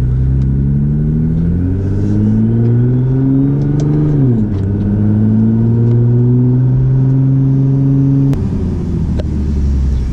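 A Nissan GT-R launches hard using launch control, heard from inside the car as a loud, rising engine roar with a quick dip at a gear shift, then continued strong acceleration.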